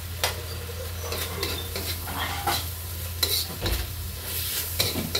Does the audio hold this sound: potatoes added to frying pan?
yes